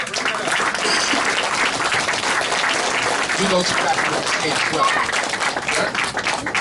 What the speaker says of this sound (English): Yeah, you can round that up, applause.